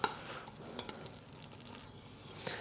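Cooked seasoned rice is scooped from a pot into a bowl, giving soft scraping and stirring rustles with a few light clinks of utensil on cookware, faint and close, without talk.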